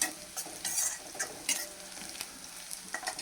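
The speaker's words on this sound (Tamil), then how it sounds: "நல்லா பாருங்கள், நல்லா வதங்கி வந்திருக்கு வெங்காயம்." Onions sautéing in a pan, a continuous close sizzle punctuated by repeated quick scrapes and clicks of a spatula stirring against the metal, no voices.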